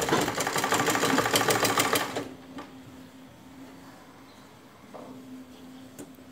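A sewing machine runs in a fast, close burst while stitching around a chemise neckline, then stops, leaving quiet room noise with a faint click or two.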